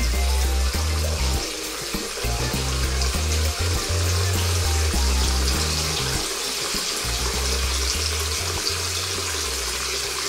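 Water runs steadily from a tap over a CAT B25 phone as it is held under the stream, a continuous close splashing rush with no speech.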